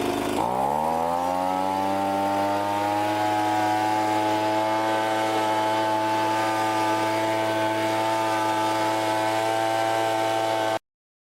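A Wild Badger gas-powered leaf blower starts up and runs at a steady, loud, full-throttle roar as it blasts wet sawdust off the ground. The engine drone carries on without a break for about ten seconds, then cuts off abruptly.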